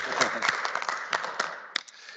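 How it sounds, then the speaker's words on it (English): Attendees at a public board of directors meeting applauding: a brief scatter of separate hand claps, sharp and fairly close, thinning out toward the end with a few isolated claps. "round of applause as well."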